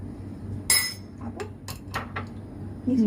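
Clinks of cups and a spoon while two milk teas are mixed together, a handful of sharp bright taps spread irregularly across a few seconds, close by, with a low background hum.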